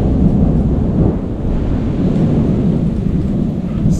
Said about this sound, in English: the thunder's going crazy and the lightning's going crazy